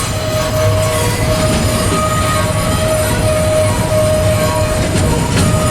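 A freight train slowing to a stop on port rail near Long Beach, with a loud, continuous rumble of rolling wagons and a sustained high wheel squeal running throughout.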